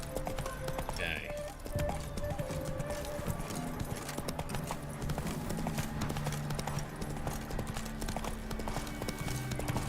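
Hooves clip-clop in a steady, close rhythm as a horse is ridden through a village in The Witcher 3, with game music and ambience underneath and a voice speaking over it.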